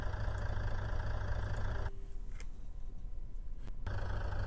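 A car engine idling in BeamNG.drive after being swapped for a bigger, turbocharged one, with a travel trailer attached: a steady low engine drone that cuts out partway through, then resumes, moderately loud with no talk.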